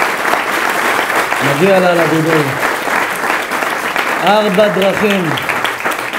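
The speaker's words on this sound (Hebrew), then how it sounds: "מגיע לה כפיים רבותיי" Sustained audience applause at a rabbi's religious lecture in Rishon LeZion, a dense, steady clapping that fills the room while someone speaks over it throughout.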